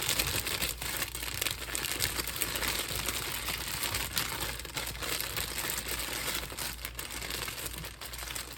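Crinkling plastic marshmallow bag as marshmallows pour out into melted butter, a steady dense rustle running the whole time at close range, with no talking.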